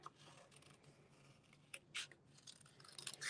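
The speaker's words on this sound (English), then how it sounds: "I'm going to fussy cut it." Scissors fussy-cut a stamped paper watercolor melon image in quiet, close snips and small crisp clicks, spaced unevenly, with no talking.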